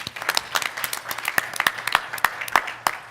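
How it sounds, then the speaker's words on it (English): A small conference audience gives a short round of applause for the hosts, with scattered individual claps heard fairly close, lasting a few seconds without talk. "maybe give them a quick round of applause for bringing us all together"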